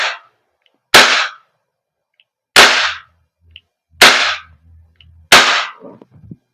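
A WE Glock 17 Gen 5 airsoft gas blowback pistol fires four sharp, loud cracks spaced about a second or so apart, each with a short decay, with silence between shots.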